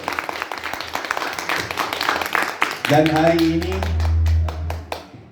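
An audience claps for AG Nutrition at a business gathering in Bali, a dense burst of applause for about three seconds that gives way to a steady tonal hum or music.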